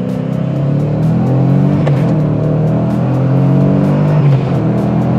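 Ford Mustang S197 fitted with a Steeda Tri-Ax short throw shifter, its engine droning loud and close as it pulls through the gears, the tone holding steady with slight rises and dips across the run.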